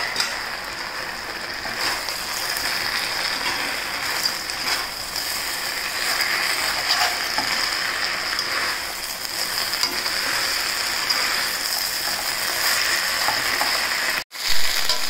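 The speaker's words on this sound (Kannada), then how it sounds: "ಈಗ ನಾವು ರೆಡಿ ಮಾಡಿಟ್ಟಂಥ ಕರೆದಂಥ ಗುಜ್ಜೆಯನ್ನು ಹಾಕ್ಕೊಳ್ತಾ ಇದ್ದೇನೆ" Fried jackfruit pieces tumbling into a pan of manchurian sauce, with a steady, even frying sizzle and faint clatter running continuously with no speech before a brief cut near the end.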